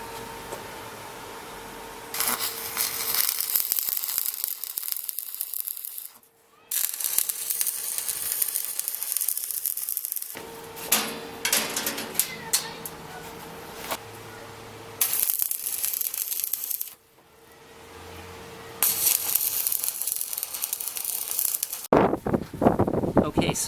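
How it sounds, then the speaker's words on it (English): A welder tacks 14 gauge sheet metal sides into a BBQ smoker. Loud crackling, sizzling bursts run for several seconds at a time, split by short quiet gaps, and the sound is close. "I'm just going to weld it in, tack weld it all the way around on the two sides and the back."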